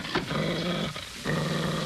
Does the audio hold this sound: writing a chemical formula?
no